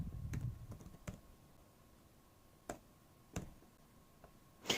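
Sparse keystrokes on a new laptop keyboard: a quick cluster of taps at the start, then isolated clicks spaced about a second apart, quiet and close in a still room.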